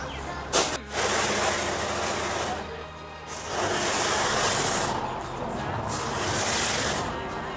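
A pressure washer sprays water over a Yamaha FZ V2 motorcycle during a foam bike wash, giving a steady loud hiss that swells and dips in a few bursts as the jet moves, close by and with no voices.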